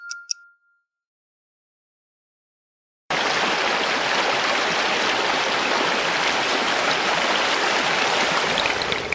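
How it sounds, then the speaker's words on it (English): After about three seconds of silence, a stream's flowing water starts abruptly as a steady, dense rushing and gurgling wash that continues evenly to the end, with no voices. "Flowing water sorts rocks."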